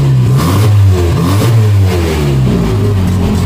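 A heavily modified 1963 Austin Healey Sprite with a 1098 engine, race cam and straight exhaust, revving loud and close with rising and falling throttle blips over a continuous rough engine note.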